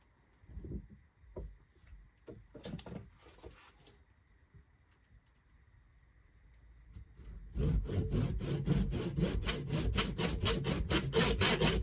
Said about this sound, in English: So I'm going to gently mark this up and cut these to fit.